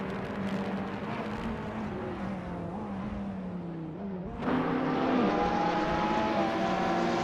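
A 2007 Lotus 211 races in a video game, its engine a steady sustained drone with shifting pitch that jumps louder partway through as another tone joins, continuous with no talk.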